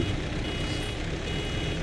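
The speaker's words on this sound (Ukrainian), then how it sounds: "Вже знову пищить" A tractor with a front loader and bale forks sounds steady reversing beeps in the farming video game Farming Simulator 17, carried over a constant, loud engine drone.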